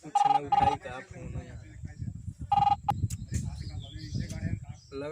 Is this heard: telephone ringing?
yes